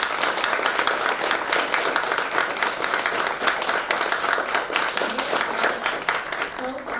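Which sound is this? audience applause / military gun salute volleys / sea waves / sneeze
audience applause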